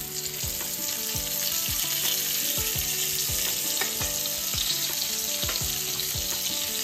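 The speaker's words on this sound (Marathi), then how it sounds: "एका साईडने फ्राय झाल्यावर आपण दुसऱ्या साईडने फ्राय करूया." Rava-coated stuffed bangda mackerel fries on a hot tava with a loud, continuous sizzle and crackle, while a regular thumping beat of background music runs underneath.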